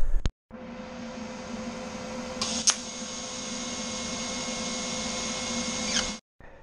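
A welder crackles and hisses in one steady, continuous run of about six seconds on a Lamborghini Countach kit car, close and fairly loud, with a brief click before it starts.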